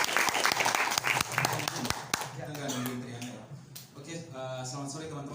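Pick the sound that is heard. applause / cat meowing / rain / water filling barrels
applause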